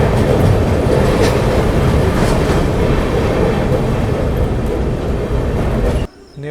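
Sampoorna Kranti express train rushing past during a crossing on an Indian railway line, a loud continuous roar of wheels and carriages heard up close from another train, cutting off abruptly near the end.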